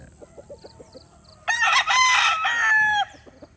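A claret and Allen roundhead gamefowl rooster gives one loud, close crow lasting about a second and a half, with soft clucks and faint farmyard noise before and after it.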